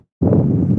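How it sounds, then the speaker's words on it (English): Wind buffeting a microphone during an e-bike ride, a sudden dense low rumble that starts abruptly and holds loud and steady without talk. "it's windy up in this area"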